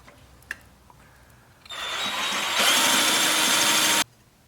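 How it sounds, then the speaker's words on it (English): A power drill runs its bit against a steel brace on a 1972 Honda CB450 cafe racer project to mark a spot, heard as a close, steady whir that rises in pitch midway and stops abruptly after about two seconds. "I'll just run the drill bit in here to mark it."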